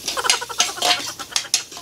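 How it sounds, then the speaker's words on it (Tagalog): Onions being sautéed in boiling cooking oil, a soft crackle with a series of quick clinks and scrapes of stirring against the pan, close and fairly quiet. "Gusto ko nang igisa ang sibuyas."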